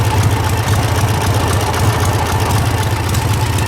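Close, loud 1947 Harley-Davidson Knucklehead bobber engine idling steadily, a deep, rhythmic low-frequency throb with a rough mechanical chatter layered on top, no talking.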